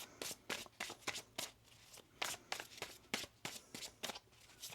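Tarot cards are shuffled in quick, riffling bursts, a dozen or so crisp flutters close up, with no talking.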